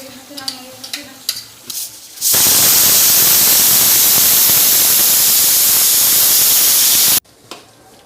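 Chicken with salt, cumin and ginger garlic paste being stirred and fried in a pan, a loud steady sizzle bursting in after scattered scraping and clinks, then cutting off abruptly near the end.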